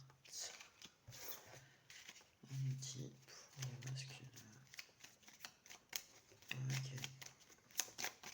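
Playing cards riffled and shuffled for a tarot-style card reading, a few dry papery bursts of flutter separated by pauses, with a French-speaking voice talking over them.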